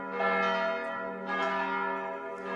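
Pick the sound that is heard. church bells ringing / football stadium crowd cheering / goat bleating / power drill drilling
church bells ringing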